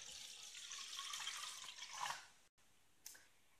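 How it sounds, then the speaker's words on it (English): Cold water runs from a tap into a bowl in a steady, soft splashing stream that swells slightly before stopping, with a brief faint splash afterward. "just run the tap till it's cold. And pour that in the bowl."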